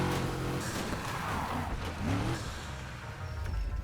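A car engine in Need for Speed Heat revs and hums steadily with rising and falling pitch, continuous and fairly close.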